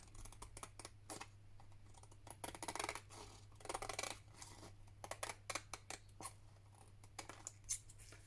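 Scissors snip around the edges of paper for a handmade faux postcard, a run of short, crisp cuts in irregular bursts, close and fairly quiet over a steady low hum.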